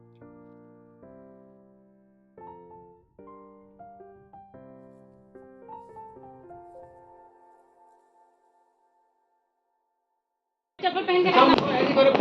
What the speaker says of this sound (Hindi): पटाखे जलाने में सभी व्यस्त हैं